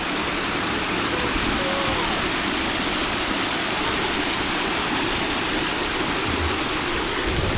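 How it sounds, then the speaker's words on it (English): A river flows steadily nearby, its loud, continuous rushing wash filling the whole stretch with no voices. "So the river goes all the way to this other end."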